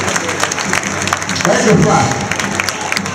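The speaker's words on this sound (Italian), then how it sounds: "ringraziamo e facciamo un applauso dalla Piazza Nove" A crowd in a town square piazza at a festival event applauds, a dense wash of clapping under an amplified announcer's voice.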